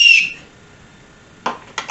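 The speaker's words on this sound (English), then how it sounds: "there is a small emergency whistle built in" A short, shrill blast of a small whistle up close, fading out, followed by two brief breathy bursts after a pause.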